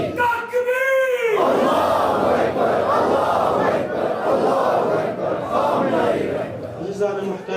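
A crowd at a Muharram majlis in an imambargah answers with a loud, unified shout of the takbir chant, sustained for several seconds between a single voice's calls at the start and end.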